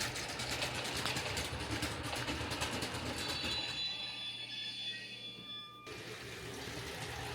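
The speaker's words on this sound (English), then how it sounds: "It's a cute little train." A small toy train rumbles and clatters steadily along its track, with a thin metallic squeal in the middle before the running noise continues.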